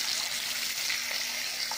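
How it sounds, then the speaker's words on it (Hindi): Chicken with a little turmeric frying in oil in a pan, giving a steady, close hiss and sizzle that runs evenly throughout with no pauses. "ये चिकन फ्राई हो रहा है"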